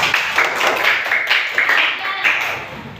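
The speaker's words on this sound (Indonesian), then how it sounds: "Tepuk tangan untuk Ella." Students in a classroom clap for a classmate who answered a question, a short burst of close, uneven hand claps with a teacher's voice faintly behind.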